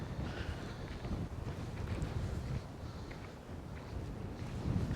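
Cold breezy wind blows outdoors at City of Rocks Campground, a steady rumbling roar buffeting the microphone with gusts rising and falling, no talk.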